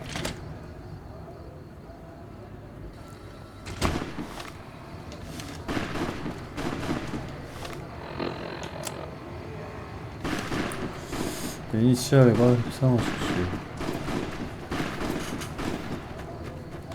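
Scattered gunfire in Fallout: New Vegas near Freeside, heard as sharp bursts and distant shots spread through the scene, with voices speaking over the fighting.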